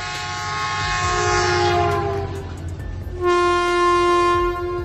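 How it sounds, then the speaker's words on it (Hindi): An Indian Railway locomotive sounds its horn in two loud, near blasts: a long tone followed by a shorter one after a brief pause, with an engine rumbling underneath. "एक लंबा और एक छोटा हॉर्न।"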